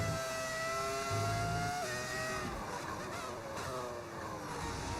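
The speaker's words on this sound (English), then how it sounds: "I just love the sound of this car" A Formula 1 car in F1 25 revving and shifting, its high engine whine climbing and dropping through gear changes, fairly quiet and continuous without talk.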